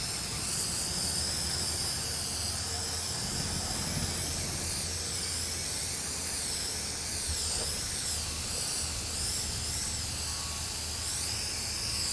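Spray can applying black lacquer paint, a loud continuous close hiss with slight wavering as the spray sweeps, running without pause.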